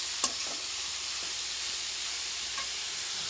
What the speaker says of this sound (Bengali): এখন এটা ভাজা হয়ে গেছে, এখন লাউটা দিয়ে দেবো।